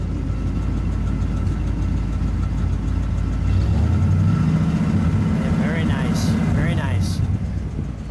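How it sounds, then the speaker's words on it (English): The engine of a 1966 AMC Marlin runs close by with a steady low rumble that rises briefly in a gentle rev, while people talk over it. "Give me just a little rev."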